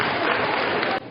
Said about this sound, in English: Give Timmy a nice round of applause.